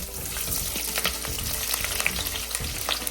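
Green chilies and onions sautéing with whole spices in a very hot vessel for mushroom pulao give a steady close sizzle, with scattered stirring scrapes and pops throughout and no talking.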